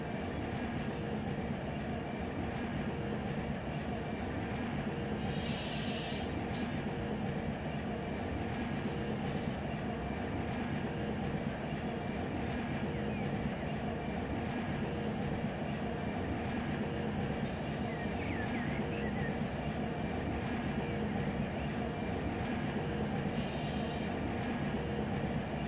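An SD45 locomotive-hauled train rumbles steadily in the Run8 train simulator game, a continuous low engine and rolling roar with occasional brief high wheel squeals and clicks, no talk.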